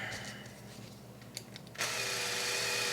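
A power driver drives droop screws into the rear end of a Team Associated RC8B4 RC car, starting as faint scattered clicks and taps, then a loud steady whirring buzz at close range for the last second or so.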